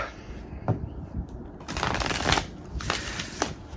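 Deck of cards being shuffled by hand, close and fairly quiet, with a few soft riffles and flicks building to a brief burst of rapid shuffling.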